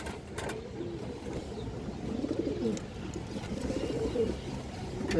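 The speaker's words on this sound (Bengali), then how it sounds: "একটা খাকি নর কবুতর আছে ফুল ডাউন শেপের কবুতর" Khaki male pigeon of a full-down shaped breed cooing softly at a pigeon farm, low repeated coos close by over steady background noise, with no talk.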